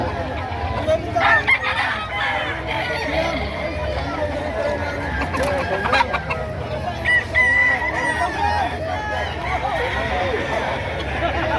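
Sweater gamefowl roosters at a livestock market crow repeatedly over steady clucking and a busy crowd, while people talk close by throughout.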